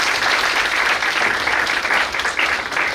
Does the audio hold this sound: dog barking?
no